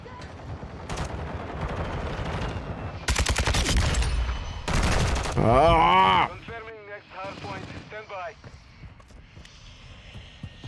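Gunfire in Modern Warfare 2 from an RPK setup, with loud rapid bursts of automatic shots and several sharp shot clusters. Speech overlaps the shooting throughout, alongside in-game effects.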